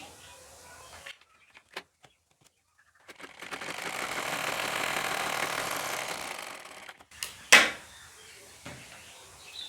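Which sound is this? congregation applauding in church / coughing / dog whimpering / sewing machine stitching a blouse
sewing machine stitching a blouse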